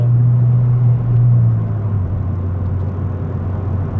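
A stage 3 tuned Ford Fiesta ST hot hatch idles with a deep, steady engine rumble and a low droning hum, close and fairly loud, briefly swelling before settling.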